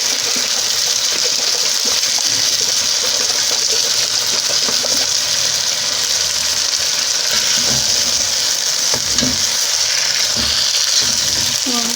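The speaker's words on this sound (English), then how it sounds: "at this point I'm going to add in my coconut milk" Coconut milk being poured into a simmering Kenyan creamy chicken stew, giving a steady close sizzle and bubbling with soft pouring and stirring throughout, no talking.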